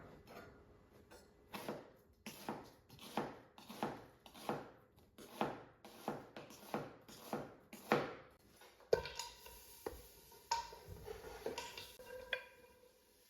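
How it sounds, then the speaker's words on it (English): A knife chops an onion into half moons on a board, a steady run of about a dozen crisp, evenly spaced cuts up close, then looser clattering kitchen handling toward the end. "let's prep our onion. I'm just going for half moons"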